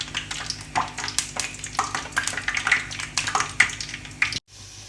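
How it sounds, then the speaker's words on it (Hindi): Spoonfuls of a potato popcorn mixture dropped into hot oil in a kadai, giving a busy, close crackling sizzle with small bursts and scraping, steady and fairly loud until it cuts off abruptly near the end. "अब हम इस मिक्सचर को स्पून की मदद से इसमें बिल्कुल छोटे छोटे पीसेस करके डालेंगे।"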